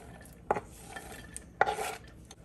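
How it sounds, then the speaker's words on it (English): Chopped onion and garlic thrown into a crockpot over a salted chuck roast: two brief clattering thumps about a second apart, close and fairly quiet, in an otherwise still kitchen. "I'm going to throw in all of my chopped onion and garlic."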